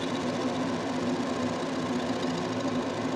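A 100 watt JPT fiber laser engraving over five passes gives a steady, unbroken buzzing hum at close range, holding the same level from start to finish with no talk.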